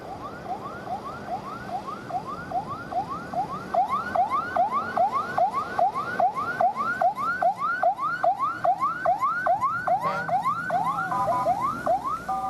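A fire truck siren wails, cycling steadily up and down in a rapid repeating sweep, fairly loud and continuous, with no talking.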